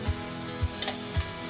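Fish curry base made with Krishna river fish sizzles as it fries in a pan, a continuous hiss broken by three soft, evenly spaced stirring bumps, with no talking.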